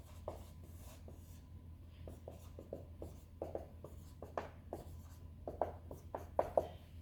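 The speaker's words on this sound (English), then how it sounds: "I'll just write mixture here." Marker writing on a board during a chemistry lesson, a steady series of short scratchy strokes that grow sharper and louder toward the end, over a low constant hum with no talking.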